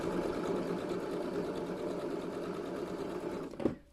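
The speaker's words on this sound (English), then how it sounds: "maybe you don't have a sewing machine, so you can do this by hand" A sewing machine stitches a hand-knitted lopi wool sweater, running steadily with a fast, even mechanical whir, then stops abruptly with a click near the end.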